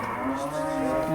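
A large sacrificial cow on a farm lets out a single long, close, loud moo with a steady droning pitch that dips near the end.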